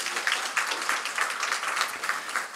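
Church congregation applauding during a Sunday sermon, a dense, steady wash of many hands clapping from start to finish with no talking.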